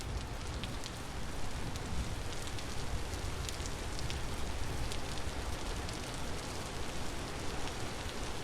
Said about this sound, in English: And the rain is still going.